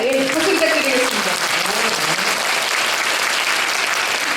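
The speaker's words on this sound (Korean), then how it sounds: "박수 부탁드리겠습니다." An audience claps steadily at a 2017 Gyeongsangnam-do education office school concert, a dense sustained round of applause with some voices and tones blended in at the start.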